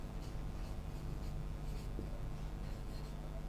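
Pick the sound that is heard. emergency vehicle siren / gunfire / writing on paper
writing on paper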